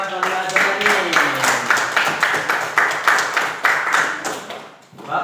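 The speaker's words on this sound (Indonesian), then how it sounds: "tepuk tangan buat Fadilah ini" Students in a classroom clap together for a classmate in a steady, evenly spaced rhythm of loud claps, with a voice briefly heard at the start.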